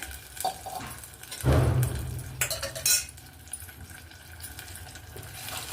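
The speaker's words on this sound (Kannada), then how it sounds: "ತೊಳೆದು ಸ್ವಲ್ಪ ನೀರು ಹಾಕ್ಕೊತೀನಿ" A vessel rinsed under running water, with clinks of metal against metal and a burst of poured water, while cooking drumstick sambar; the splashing comes in short loud surges over a low kitchen background with no speech.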